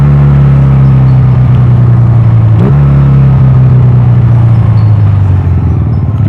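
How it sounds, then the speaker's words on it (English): Honda Rebel 250 motorcycle engine, loud and close, droning steadily while riding, then a quick blip during a rev-matched downshift from fifth, after which the steady hum resumes at a slightly lower pitch and slowly falls. "Did you hear that engine slowed down?"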